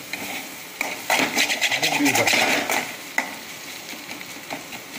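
Prawn thokku stirred in a pan, with a rapid run of scraping, clinking spatula strokes over a soft sizzle, then a single sharp knock and quieter sizzling.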